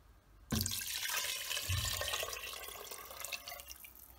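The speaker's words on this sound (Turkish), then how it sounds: "ben şimdi suyumuzu ilave ediyorum. Suyumuzu koyuyorum." Water pours steadily into an Emsan Shefer clip-lock pressure cooker in a kitchen, a continuous splashing fill that starts abruptly and runs close and clear with no talk.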